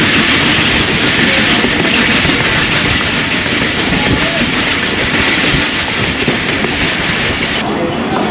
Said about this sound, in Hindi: 9:05 हो रहे हैं और ट्रेन लूप लाइन पर आ गई है।